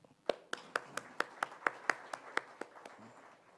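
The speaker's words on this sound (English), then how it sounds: "let our team applaud ourselves" Workshop participants at a team kick-off session clap in a loose, sparse rhythm, about a dozen distinct claps over three seconds in a quiet room.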